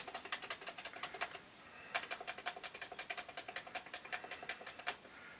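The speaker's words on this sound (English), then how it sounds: "is a dirty keyboard. See, I'm pressing the A key." Keys pressed on a dirty Commodore 64 keyboard, a rapid run of close, crisp clicks in quick bursts with a brief pause, quiet and alone with no talk.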